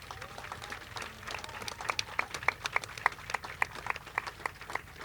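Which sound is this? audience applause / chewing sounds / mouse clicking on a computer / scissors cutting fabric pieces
audience applause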